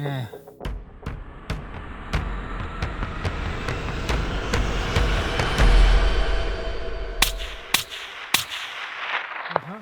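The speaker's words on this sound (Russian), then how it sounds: "Дмитрий быстро занимает позицию и производит выстрел." A rifle shot rings out while hunting Kuban tur in the Caucasus mountains at about 220 metres, heard among several sharp, close cracks and clicks over rough outdoor background noise.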